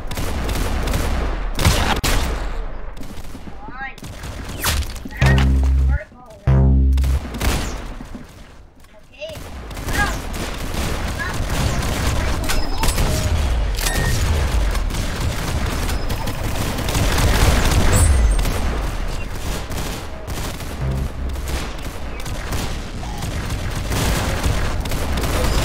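Video-game gunfire rings out in dense, rapid bursts of shots and booms across the clip, loud and close, with brief gaps around the middle and some talk underneath.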